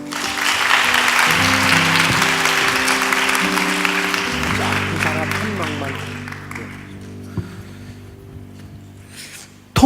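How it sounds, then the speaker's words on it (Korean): Congregation clapping during a late-night special worship service at a church, a dense sustained burst of applause that slowly thins out, with organ or keyboard chords held underneath and a brief loud thump at the very end. "우리 주님께 영광의 박수 드리겠습니다."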